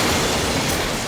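A train pulls into a station with a dense, continuous rumbling roar that holds steady and loud throughout the brief moment.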